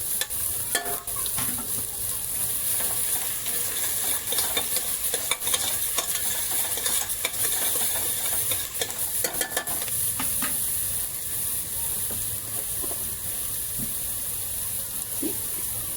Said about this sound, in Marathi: आता आपण कांदा टाकूया कांदाही चांगला लालसर फ्राय करून घेऊया